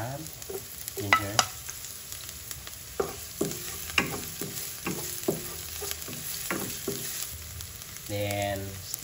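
Ginger fries in a hot pan with a constant sizzle while a utensil stirs and scrapes it in repeated sharp strokes. The sound is close and fairly loud, with a brief rattling scrape near the end.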